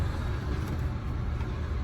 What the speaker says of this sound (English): Noisy trucks.